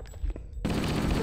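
Battle rifle burst fire in Halo: Combat Evolved, a sudden dense rattle of gunfire that bursts in loud and close after a quiet moment, continuing steadily to the end with a bit of talk just before.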